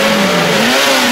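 A cartoon truck in a Peppa Pig episode revs hard as it strains to pull, making a loud, steady engine whine that rises slightly in pitch over about a second, with no voices.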